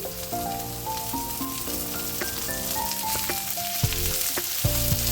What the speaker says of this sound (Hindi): हल्का सा प्याज को भून लीजिए।